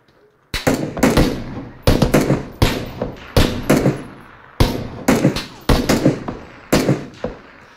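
Gunshots in PUBG that end in a headshot kill: a series of sharp, loud reports fired in quick clusters of two or three, echoing close by.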